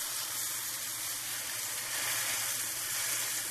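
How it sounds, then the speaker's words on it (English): A pork ribeye roast sears in a hot skillet, producing a steady, bright sizzle with a low underlying hum and no voices. "All you're doing is basically touching it to that hot skillet."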